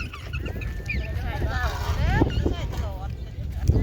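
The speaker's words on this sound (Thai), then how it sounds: "ลมคัก" Strong wind buffeting the microphone outdoors by a canal, a loud continuous low rumble while someone talks over it.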